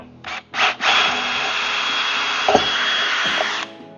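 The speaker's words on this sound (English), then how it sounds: "But while I have the drill, I'm gonna drill out the bottom." A power drill whirs loudly, two short bursts and then a sustained run boring into the wooden bottom of a steam box, grinding steadily before stopping.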